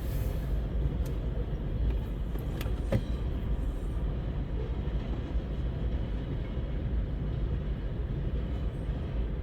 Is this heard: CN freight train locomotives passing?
yes